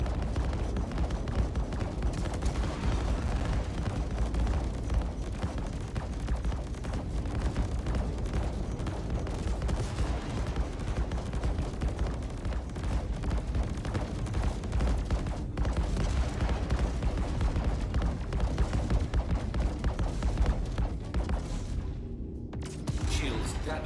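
A spaceship in Star Citizen unleashes a dense, continuous barrage of guns and missiles, a loud unbroken roar of rapid shots and booms that runs almost without pause.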